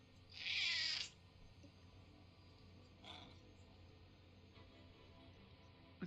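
A grumbly, scratchy pet cat lets out one loud, rough meow near the start, followed by a couple of much fainter calls over quiet background.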